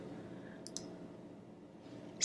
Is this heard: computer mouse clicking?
yes